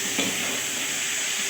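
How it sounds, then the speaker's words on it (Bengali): Onions frying in a pan for a thin Bengali fish curry, a soft, steady sizzle and hiss with no talk. "এই পেঁয়াজ দিয়ে এইগুলো ভাজা ভাজা হচ্ছে"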